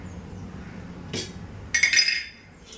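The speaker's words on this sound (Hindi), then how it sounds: "चले, हमने एक हांडी रख दी, इसी के अंदर अभी हम रगड़े की तैयारी करेंगे।" A cooking pot (handi) set down, a short single clunk followed by a brief metallic clink and rattle, close by in a quiet room.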